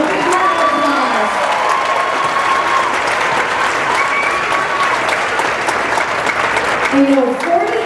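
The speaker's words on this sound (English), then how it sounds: "Let's give them a big round of applause" Audience applause for a fiddle player and a keyboard player at a Norwegian folk afternoon, a dense, steady wash of clapping from a crowd that holds strong for several seconds and lifts slightly near the end, with faint talk underneath.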